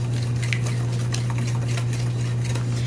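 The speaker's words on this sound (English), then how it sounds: "I'm going to take and mix up these wet ingredients till they're completely combined." Wet ingredients for a chocolate cake are whisked by hand in a bowl. A steady, close scraping and clicking rhythm runs without pause over a low, constant hum. No one speaks.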